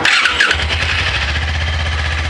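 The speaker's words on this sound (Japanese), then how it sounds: "さあ、エンジンかけます。" A Suzuki V-Strom 250 motorcycle starts up close by: a brief starter whir, then the engine catches into a steady, deep, low-pitched idle thrum that carries on to the end.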